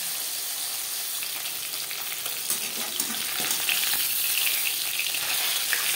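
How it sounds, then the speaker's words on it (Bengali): Pieces of pabda fish fry in hot oil, giving a steady, dense crackling sizzle that grows slightly louder and busier midway, with no talking. "মাছ একটা সাইড ভাজা হয়ে গেলে অপর সাইডটা উল্টে দেব।"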